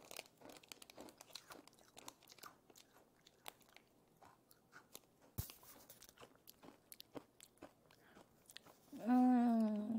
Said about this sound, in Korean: 자, 먹어보겠습니다.